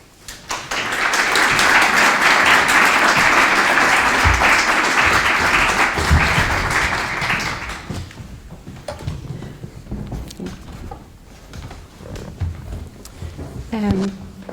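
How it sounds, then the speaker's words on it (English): A conference audience gives a warm round of applause as four teachers come on stage at a data literacy and AI teaching summit. The clapping is loud and sustained for about seven seconds, then stops and gives way to quieter room sounds. "please give a warm round of applause to our 4 teachers"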